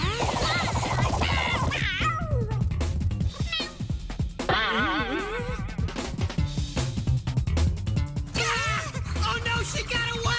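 An animated cartoon cat meows and yowls repeatedly in drawn-out, wavering cries, loud and close, with groan-like vocal sounds mixed in.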